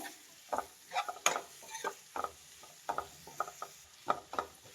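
Capsicum frying in a pan while being stirred, with faint sizzling beneath a series of scattered scraping and clinking strokes of a spoon against the pan.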